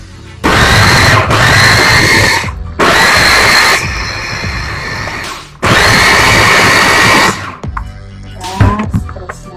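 A blender whirs loudly in three bursts separated by short pauses while blending mulukhiya for Arab soup, each a harsh high-pitched motor roar, followed by some clattering.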